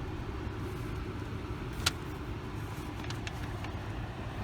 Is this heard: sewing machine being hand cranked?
no